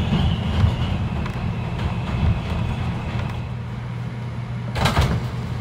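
An R142 subway car on the 5 line runs in the Bronx with a steady low rumble and hum, joined near the end by a brief louder burst of rail or door noise.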